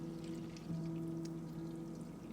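Maple syrup pouring through a fine filter grid, a steady soft continuous pour with a low trickling hum, fairly faint and without talking.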